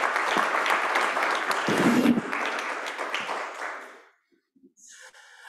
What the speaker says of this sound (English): if I can ask for a round of applause for those who are in person